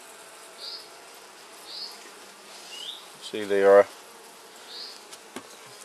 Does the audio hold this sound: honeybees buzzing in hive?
yes